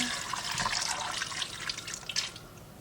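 Water poured into an Instant Pot over carrots and small potatoes, a steady close splashing pour running continuously with a few brighter drips, no voices.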